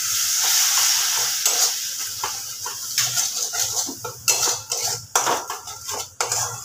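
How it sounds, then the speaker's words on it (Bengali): Spice masala with a pinch of sugar and a splash of water fries in a pan for muri ghonto, a loud hissing sizzle at first that gives way to rhythmic spatula scrapes and clinks against the metal, up close. "এবার মশলাটাকে ভালোভাবে কষিয়ে নিতে হবে।"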